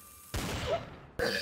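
A single loud shotgun blast fired in Garry's Mod Trouble in Terrorist Town, a sharp report with a decaying tail, followed by a second bright gunshot-like impact near the end, no voices.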